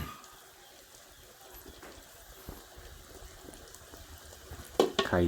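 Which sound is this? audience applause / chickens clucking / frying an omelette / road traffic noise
frying an omelette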